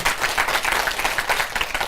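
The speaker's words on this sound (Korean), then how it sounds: "박수 한번 더 크게" Audience applause at a Buddhist parenting lecture, a loud, dense wash of clapping that holds steady for the whole short stretch with no talking.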